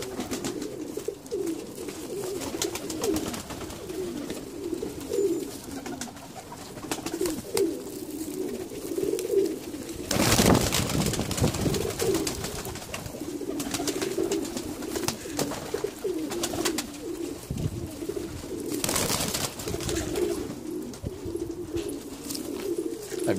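Pigeons in the UK cooing steadily, a repeated low throaty coo close by, with occasional bursts of wing flapping and rustling cutting through.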